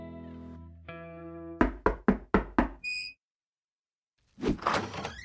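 Five quick, evenly spaced knocks land on a door, close and sharp. A sustained musical tone comes before them, and a brief chime and a burst of noise follow.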